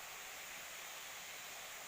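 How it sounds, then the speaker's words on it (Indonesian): Lidah Naga waterfall, a continuous broad rush of falling water heard as an even, steady hiss without pauses, fairly faint and distant, no voices over it. "Alhamdulillah kita sudah sampai di air terjun Lidah Naga."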